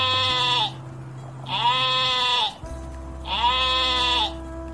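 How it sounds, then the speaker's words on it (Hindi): A sheep bleats three times, loud and close. Each cry is a long, wavering bleat, with short pauses between them and a low steady hum underneath. "ये है भेड़। भेड़ को इंग्लिश में शीप कहते हैं।"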